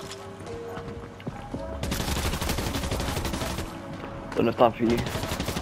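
Rapid gunfire from a video game shootout rattles on steadily through most of the stretch, with a couple of louder bursts near the end, while a player talks over it.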